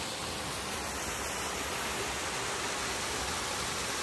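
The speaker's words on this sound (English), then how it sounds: "just sitting here in this beautiful" A waterfall on the Florida Trail's Suwannee section roars as a steady, dense wash of broadband rushing water, constant and fairly loud throughout with no voices over it.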